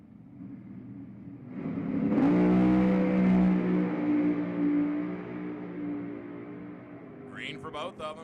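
Top Dragster drag racing cars at an NHRA event at Houston Raceway Park, a loud engine roar swelling up, holding strong, then slowly fading, followed by a brief voice at the end.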